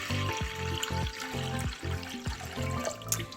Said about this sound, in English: in this I'm going to add water